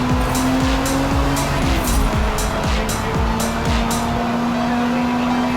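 A 1997 Honda Civic Type R race car accelerating hard at Laguna Seca, its engine loud and close and climbing repeatedly through the gears, with tire squeal and a rapid string of sharp clicks above the engine note.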